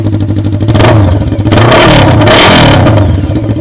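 A carbureted Honda CB 500 motorcycle runs on a bare exhaust pipe with no muffler, very loud and close, its rough rumbling idle broken by several sharp revs.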